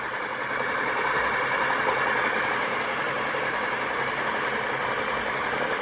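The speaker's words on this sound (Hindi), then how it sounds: "ये देखिए पंप अपना चलने लगा" A repaired RO water purifier booster pump running steadily, giving off a continuous loud motor hum with a fast buzzing vibration, close by and alone.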